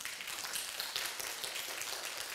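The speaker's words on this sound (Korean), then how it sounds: "하나님의 영광을 위해서는 박수 한번 쳐줘요" A church congregation at a Sunday worship service claps together in a dense, steady wash of applause, heard faintly and at a distance.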